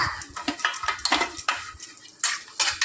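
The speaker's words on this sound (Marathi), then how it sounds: "मी आता इथे असं तूप चांगलं चोळून घेते सगळ्या बाजूंना चोळून घ्यायचं" Ghee being rubbed around the inside of a metal cake tin by hand, giving a run of quick scraping, clinking metallic contacts at close range with no talk.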